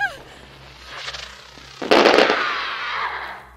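Fireworks are shot off nearby: faint pops early on, then a sudden loud blast that breaks into a long, hissing crackle fading over the next second or so.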